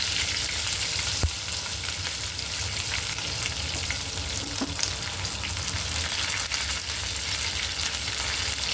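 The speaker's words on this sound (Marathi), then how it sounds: "पहिले फोडणी व्यवस्थित करतो द्यायची." Spices sizzle steadily in hot oil for a tempering with curry leaves, chopped ginger and garlic paste, a continuous close frying hiss with faint stirring scrapes throughout and no talk.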